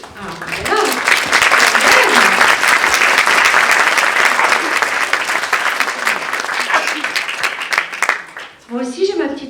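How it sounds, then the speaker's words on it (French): Theatre audience applauding loudly and steadily for about eight seconds, a dense wash of clapping that fades out as a voice begins speaking at the end. "j'aime bien qu'on m'applaudisse"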